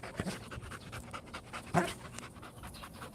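A tired Belgian Malinois lying down and panting close by, with quick soft rhythmic breaths and a couple of louder huffs across a few seconds, alone.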